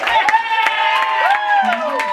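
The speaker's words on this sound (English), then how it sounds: "Applaud so I feel good about myself." An audience at a comedy salon show cheers and claps. Raised whooping voices glide up and down over a few scattered claps in a short, lively burst.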